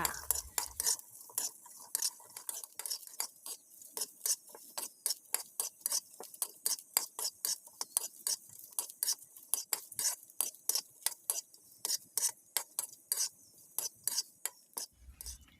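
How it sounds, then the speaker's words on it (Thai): Shallots, garlic and red chilies dry-roast in a pan, heard as a quiet run of sharp, rapid tapping and scraping clicks from stirring, with brief faint low thumps at the start and end. "เราก็จะนำหอมแดงกระเทียมพริกแดงนำมาคั่วให้สุกค่ะ"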